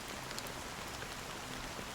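Rain falls steadily in the video game Honkai Star Rail, a dense, even hiss of drops with no pauses and nobody speaking.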